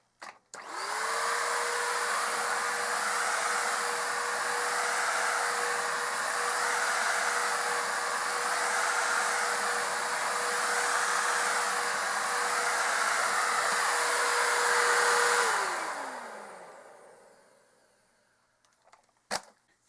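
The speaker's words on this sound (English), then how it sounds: "Next is Bissell 3-in-1 stick vacuum number 2 with the head." A Bissell 3-in-1 stick vacuum cleaner with its floor head attached starts up and runs with a steady, loud whirring hiss and a constant motor whine for about fifteen seconds, then winds down to silence.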